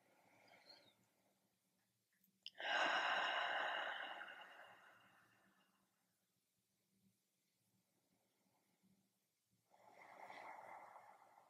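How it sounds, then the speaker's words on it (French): Two slow, deep breaths during a yoga session, drawn close to the mic in a quiet room. A long airy exhale swells and fades, and after a pause a second breath begins. "Et je vous propose de prendre seulement 5 respirations profondes ici."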